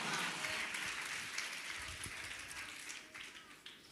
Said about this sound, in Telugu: గట్టిగా చప్పట్లు కొడి దేవుని నామాన్ని మేము చెల్లేద్దాము